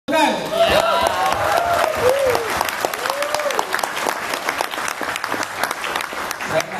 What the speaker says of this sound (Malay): Berikan Izan tepukan.